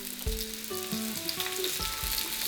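Chamsongi mushrooms frying in oil in a pan, a steady close sizzle under clanking utensil taps and tonal kitchen noises, with no speech.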